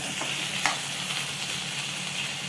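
A masala mixture for rasabaji curry is stirred in a pan, giving a soft, steady scraping and low sizzle with one sharp clack of the spoon partway through.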